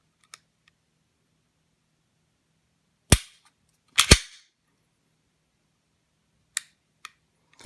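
A Smith & Wesson M&P M2.0 pistol dry-fires with sharp, close trigger clicks: a faint tick, two louder snaps a second apart, then three small reset clicks near the end.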